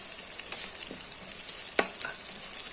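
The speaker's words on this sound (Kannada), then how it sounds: "ಈಗ ಒಂದು ಒಗ್ಗರಣೆ ಎಲೆಯನ್ನು ಕೂಡ ಸೇರಿಸುವ. ಇಲ್ಲೇ ಸೇರಿಸಿದ ನಂತರ ಒಂದು ಸ್ವಲ್ಪ ಕೈ ಆಡಿಸ್ಕೋಬೇಕು." Curry leaves and urad dal sizzle steadily in hot tempering oil for an aloo matar gassi, a continuous close frying hiss with light stirring and one sharper pop near the end.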